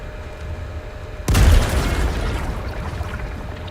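A grenade explosion in Helldivers 2: one sudden, heavy boom after a quiet stretch, trailing off into a rumbling, debris-filled decay.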